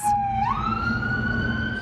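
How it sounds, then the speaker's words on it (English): A wailing emergency siren sweeps upward and holds a high, steady tone over a low rumble of traffic in Las Vegas streets, loud and fairly close, during response to an active shooter. "Sirens blared through the streets of Las Vegas"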